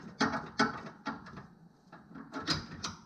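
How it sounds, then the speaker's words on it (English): A ratchet working long bolts out of a car steering rack gives several sharp, close metallic clicks in uneven bursts, with brief pauses between strokes. "Taking out 4 foot long bolts."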